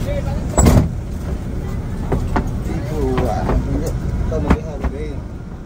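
Road traffic at the exit of Bungurasi bus terminal in Surabaya, with engines idling and passing vehicles, a door thud and brief clunks, while people talk nearby.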